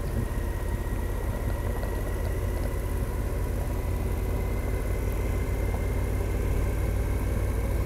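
Car engine coasting in third gear up a mountain pass, a steady low drone with continuous broadband road and wind roar, constant and fairly loud throughout with no talking.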